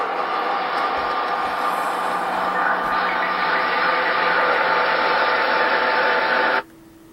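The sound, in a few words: radio stream sample with high feedback and huge reverb drone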